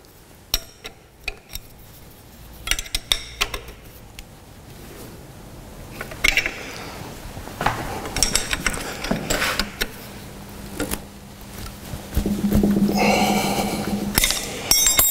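A bench vise is locked down in a fitting and turning workshop with a run of scattered metallic clanks, ratcheting clicks and tightening scrapes, growing busier and denser toward the end.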